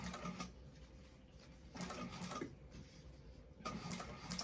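A sewing machine stitches a bag in steady bursts of rapid mechanical whirring, three runs separated by short pauses, close and moderately loud.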